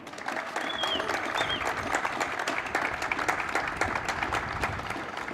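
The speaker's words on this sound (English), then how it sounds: "Please join me in giving her a round of applause." Sustained audience applause fills a public event where Nashville Mayor Karl Dean is announcing a bike sharing program, dense steady clapping from a sizable crowd running evenly throughout without a break.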